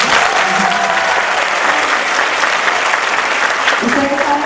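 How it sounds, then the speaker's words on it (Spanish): Audience applause at a children's dance festival in Samacá, dense and continuous with many hands clapping at once, loud and steady for the whole stretch with no voices rising above it. "¿Cómo fue el aplauso que yo no le escuché?"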